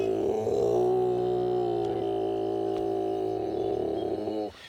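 Bruce, a male koala at a home zoo, lets out a deep, sustained, rumbling growl as a territorial call, loud and close, holding steady for several seconds before cutting off.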